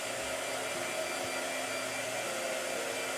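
A blow dryer runs steadily at close range, a constant, even whooshing roar with no change in pitch or breaks, and no voices over it.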